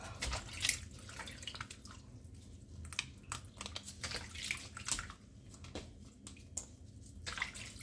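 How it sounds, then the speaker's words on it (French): Raw captain fish being rinsed and cleaned by hand in a basin of water: irregular splashing, dripping and sloshing, close and moderately quiet, with no talking. "maintenant on va nettoyer les poissons comme ça"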